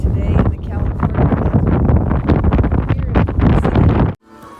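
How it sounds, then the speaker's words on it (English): Loud, continuous California desert wind buffeting the microphone, a roaring gusty rush that cuts off abruptly near the end. "It's really windy out here today"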